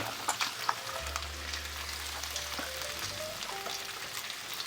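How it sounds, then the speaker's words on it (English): Thin pork chops fry in a pan with a steady, moderately quiet crackling sizzle and scattered pops, over a low background hum. "Cooking pork chops to this degree right here, they can have a tendency to dry out"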